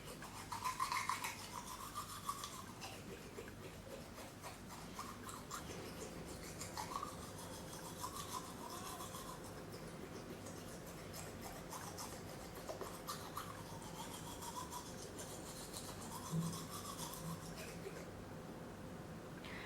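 Someone brushes their teeth with charcoal whitening toothpaste, making faint, steady scrubbing and rubbing sounds close by, with quiet room noise in the background.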